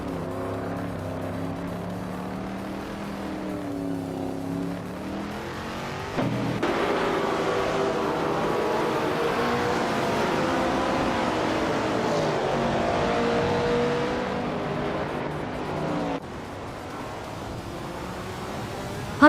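A Ford Capri R 3100, a classic Group 4 race car in a racing video game, drones with a steady engine whine that rises and falls through gear changes, holding loud and continuous throughout.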